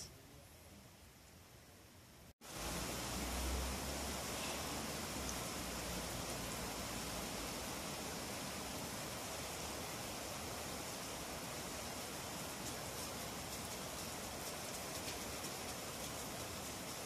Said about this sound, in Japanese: えらい雨。